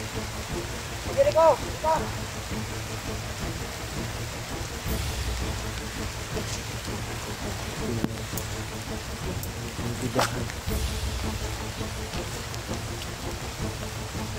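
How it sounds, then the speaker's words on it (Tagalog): Heavy rain pours down steadily as a dense, close wash of noise, while people talk over it throughout. "Malakas na ang ulan mga tol."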